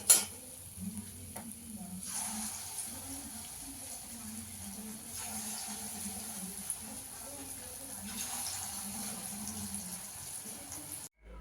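Dal bora lentil fritters fry in hot oil, a continuous soft sizzle and bubbling with occasional clicks of stirring, fairly faint and steady with a brief voice.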